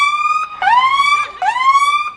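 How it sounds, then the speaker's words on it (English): Emergency vehicle sirens from a fire truck and an ambulance sound close and loud, with a steady high tone interrupted twice by sharp rising wails that sweep upward and hold. "And then I got a fire truck and an ambulance being butt heads."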